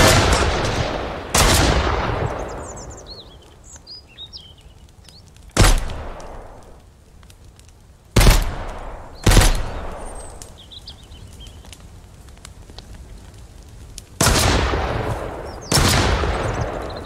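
Repeated gunshots in the survival shooter game Mist Survival during an attack on a camp, about seven sharp, loud single reports spaced irregularly, each trailing off in a long echoing decay, with faint birdsong between shots.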